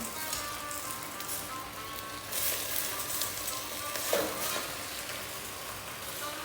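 Wild garlic (Allium ursinum) drops into a hot frying pan with softened translucent onions, giving a steady, fairly loud sizzle that swells partway through, with stirring and no talk.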